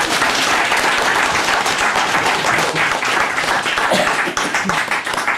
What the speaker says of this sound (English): So what about a nice round of applause for our judge,